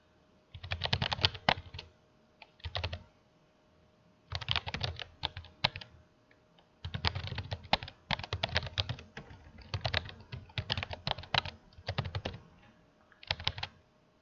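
Clusters of crisp, close keystrokes on a computer keyboard as survey answer options are entered, fast bursts separated by short pauses, with no talking.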